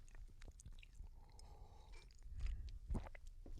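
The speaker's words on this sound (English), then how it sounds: "the sort of quasi crunch of the chocolate chips would be kind of fun and interesting" Crunchy chocolate chips are chewed close to the microphone, giving faint soft crunches and moist mouth sounds in an irregular rhythm with no talking.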